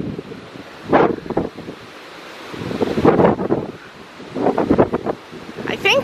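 Strong wind buffets the microphone on an open cruise ship deck at night, with ocean surf surging in several loud gusts and swells, alone without talk.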